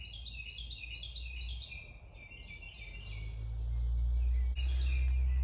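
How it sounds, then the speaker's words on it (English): Birds chirping in a warm garden in Missouri, with repeated bright high trills and tweets in short bursts over a low rumbling background that grows louder toward the end, with no talking. "Birds are pretty."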